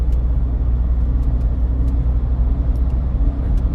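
A Ford Everest gains speed on its own under cruise control, heard from inside the cabin as a loud, steady low road rumble and engine drone with no talking.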